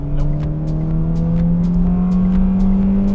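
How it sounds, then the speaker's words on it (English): Honda Fit RS engine climbing steadily in revs through VTEC, a loud, smooth rising drone with sharp ticking clicks over it, close and uninterrupted for about three seconds. "You can feel that VTEC come in. And there's your fuel cut."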